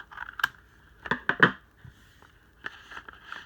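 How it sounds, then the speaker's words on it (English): Scissors dropped onto a desk while opening fan mail, a few sharp clattering clicks and taps close by, with scattered rustling of envelopes and cards around them. "So I dropped my scissors."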